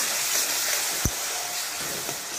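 Tomato paste sizzles in a pan while pasta sauce is cooked, a soft, steady hiss with a single sharp clack partway through.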